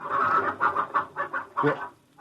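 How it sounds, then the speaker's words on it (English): A chicken clucking in a rapid series of short, close, fairly loud clucks with an uneven rhythm. "Hey, that ain't no hound. That's the chicken."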